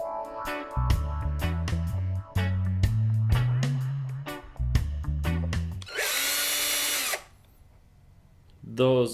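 A power driver whirs in several short bursts as it backs small screws out of an Eachine Falcon 180 drone frame. The motor pitch rises and falls, and a longer high whine comes near the end.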